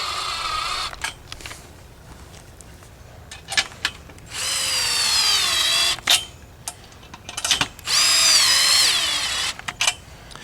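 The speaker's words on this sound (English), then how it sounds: "Then I'll come back and tighten all these up." Power drill tightening nuts on trampoline enclosure poles, heard as two long, loud whirring bursts separated by a pause, with brief clicks and handling knocks scattered between them.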